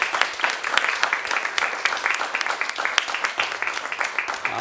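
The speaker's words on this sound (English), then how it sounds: "I just wanted to again have a big round of applause, not just for our panelists, but for Cormac as well" Steady round of applause from an audience at a pain education livestream event, honoring the panelists and presenter, with dense, even clapping sustained throughout.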